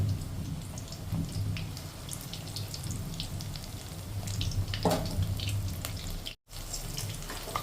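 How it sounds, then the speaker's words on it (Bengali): Pakoras sizzle steadily in hot oil in a home kitchen as they are turned over, a dense close crackling hiss with scattered pops and light clinks and a brief break in the middle. "যে পকোড়াগুলোকে আমি উল্টিয়ে পাল্টিয়ে ভালো করে ভেজে নিচ্ছি"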